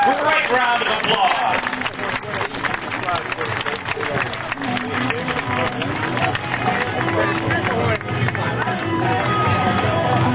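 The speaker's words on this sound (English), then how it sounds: "Let's give them a great round of applause." Crowd applause and clapping at a 2004 air show after an F/A-18F Super Hornet demonstration, a loud continuous wash of hands with crowd babble and talk throughout.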